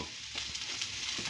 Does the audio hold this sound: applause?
no